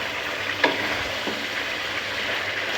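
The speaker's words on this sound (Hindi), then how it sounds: "चिकन फ्राई हो रहा है" Chicken frying in a pan with peas in the dish, cooked over medium heat to a golden color, giving a steady close sizzle with a couple of faint stirring scrapes and no voices.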